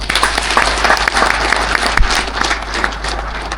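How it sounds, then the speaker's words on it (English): Sustained applause from a large audience saluting farmers at a Zambian presidential address on farming, dense and steady throughout with a brief louder burst near the middle. "May we clap for the farmers"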